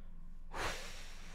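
A person draws one quick, forceful breath in through the nose, a short breathy rush after a half second of near quiet, close to the microphone and alone.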